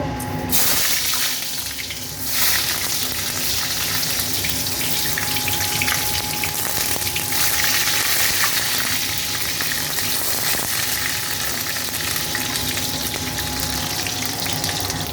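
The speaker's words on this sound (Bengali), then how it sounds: "বেগুনগুলো ভেজে নেব।" Eggplant (brinjal) slices frying in oil in a pan: a loud, continuous sizzle and crackle that holds steady throughout, with a brief clatter at the start and no voices.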